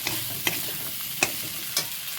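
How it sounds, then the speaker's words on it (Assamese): Onion, whole cumin and turmeric fry and sizzle in a pan, a steady hiss broken by a few sharp clicks of stirring, close and alone without voices. "তাৰপিছত ফ্ৰাই কৰি দিছোঁ ধুনীয়াকৈ"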